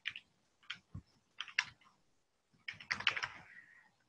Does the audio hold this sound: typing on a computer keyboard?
yes